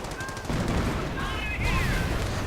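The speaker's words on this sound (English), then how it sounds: "another assault right here by Cheezburgler, support by heavy machine gun and snipers" Dense heavy machine gun and sniper fire crackles in a 2v2 real-time strategy game battle during an infantry assault, a continuous rattle of shots with faint whistling tones over a busy battlefield din.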